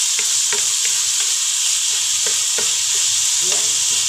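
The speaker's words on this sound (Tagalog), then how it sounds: "Haluin lang po natin siya para mahalo yung lasa ng ating nilutong mga ingredients." Tuyo (dried fish) fries in a pan while being stirred, a steady bright sizzle broken by regular scraping strokes of the utensil, close and continuous.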